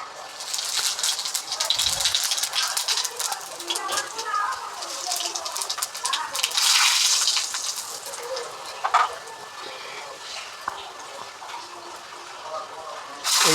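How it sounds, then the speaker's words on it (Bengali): Spices sizzle as they hit hot oil for tempering while cooking ash gourd with shrimp, a bright, hissing crackle that surges and settles, with a person talking over it. "আপনারা দেখছেন তেলটা গরম হয়ে গেছে, এইবার ফোড়নগুলো ছাড়া হচ্ছে।"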